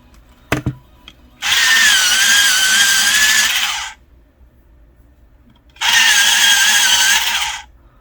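A small battery-operated pencil sharpener motor whirs loudly in two bursts, about two and a half and two seconds long, separated by quiet, after a couple of light clicks.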